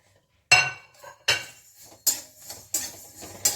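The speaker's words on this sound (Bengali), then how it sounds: "এখন এখানে দিয়ে দিচ্ছি আমি সর্ষে।" Mustard seeds dropped into a frying pan on low heat while making amla pickle, giving five sharp, bright clinking hits spaced unevenly, each fading quickly, close and fairly loud with no talk.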